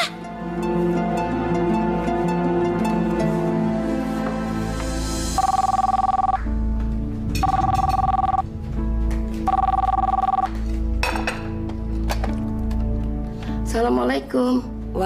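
Telephone ringing in a home: a low electronic bell sounds in four evenly spaced bursts after a stretch of background music and ambience, loud and close, with no talking over it.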